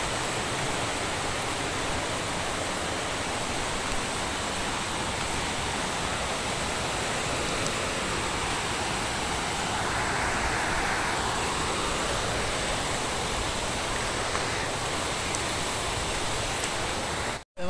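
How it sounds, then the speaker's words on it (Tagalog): A strong current of river water rushes steadily past a rocky trail of jumbled stone in the Philippines, a continuous broadband roar that stays close and even, with no voices throughout. "yung agos dito sa tubig malakas"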